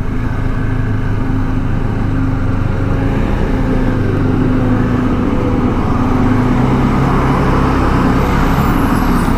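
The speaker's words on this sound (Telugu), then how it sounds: "చూడండి, ముంగట లారీ" A lorry on a mountain road near Chitkul in the Spiti region, its steady engine drone and road rumble continuous and fairly loud, with a low tonal hum shifting slightly as it moves, no voices.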